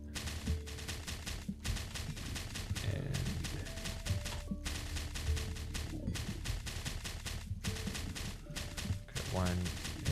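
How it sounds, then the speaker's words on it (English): Grenades exploding in the survival game Last Day on Earth, bursts of gunfire-like blasts layered over dense, continuous game noise and music at steady loudness, with a rising tonal effect near the end. "Both of the grenades have exploded, and all of them have died."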